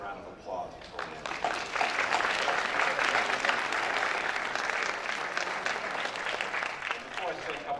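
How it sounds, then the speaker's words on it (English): Audience applause for the village at a community gathering celebrating a new switching station, a dense, steady wash of many hands clapping that swells early and holds loud to the end, with voices mixed in. "I'd like to give the village a round of applause before we end."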